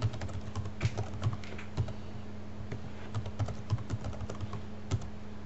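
Someone types on a computer keyboard while filling in a web form, with quick, uneven bursts of key clicks and short pauses between entries, fairly quiet and with no talking.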